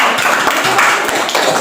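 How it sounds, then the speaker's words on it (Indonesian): Classroom pupils applauding their teacher during a maths lesson on integer multiplication and division, a brief burst of dense clapping from the group, fairly loud and steady throughout. "Ya, tepuk tangan Pak Guru."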